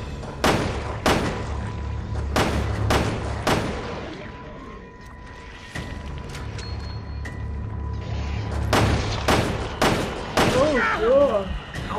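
Rapid volleys of gunfire at a monster in the survival horror game Resident Evil Revelations 2, with sharp repeated shots and thuds in clusters through the clip, mixed with game sounds and a brief voice.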